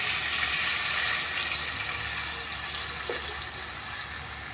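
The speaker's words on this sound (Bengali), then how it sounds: "এবার আমি এতে দিয়ে দেবো জল।" Water is poured into a pan of mango and fish cooking for a Bengali dish, a continuous hissing rush over sizzle that gradually eases off, with no talking.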